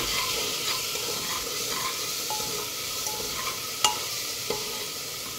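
A tomato rice mixture with coriander and salt is stirred in a pan, a soft continuous hiss of frying dotted with light utensil taps and scrapes.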